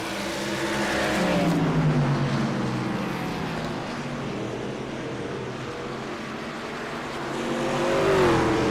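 Race cars on a simulated short oval at Lucas Oil Indianapolis Raceway Park in a sim racing game, engines droning and rising in pitch as cars pass close and fade, a continuous loud roar.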